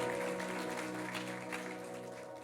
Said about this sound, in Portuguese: Você pode dar uma salva de palmas de gratidão?